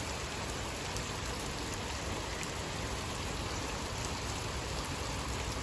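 Steady rain falls on a house during an out-of-season February shower, a dense continuous hiss of drops on surfaces throughout, even and close with no talking.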